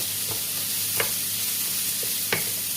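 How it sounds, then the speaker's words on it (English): Onions sauté in a pan before ham is added, a steady close sizzle with a few soft scraping stirs of the spoon cutting through at intervals. "I will add the ham after the onions are starting softening a little bit"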